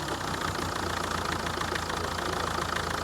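A Mercedes Vito 638 with the 2.2 CDI diesel is revved, its engine running loud and rough with a dense, continuous knocking clatter and vibration throughout, no voices.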